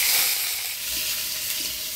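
Chopped onion hits hot oil seasoned with dried red chilli and black cumin in a pan, giving a steady, fairly soft hissing sizzle that lasts throughout with no talk.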